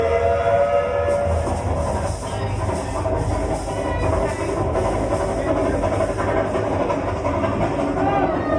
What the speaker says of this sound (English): This is my ghost train.